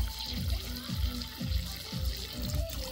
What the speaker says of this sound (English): Fill up her water bowl a little bit more.